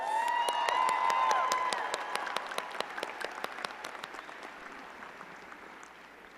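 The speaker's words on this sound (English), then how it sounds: "Let's give Dr. Schell another round of applause." Applause for Dr. Schell at a psychology department commencement ceremony, a dense wash of clapping from a crowd that thins into scattered sharp claps toward the end, with a faint tonal whistle-like sound early on.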